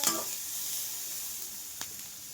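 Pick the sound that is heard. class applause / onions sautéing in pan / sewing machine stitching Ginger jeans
onions sautéing in pan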